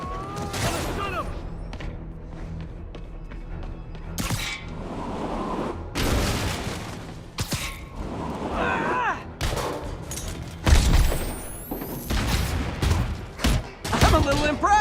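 Enemy gunfire in Marvel's Spider-Man, scattered bursts and heavy shots cracking through a noisy battle, with intermittent thuds and shouted voices mixed in.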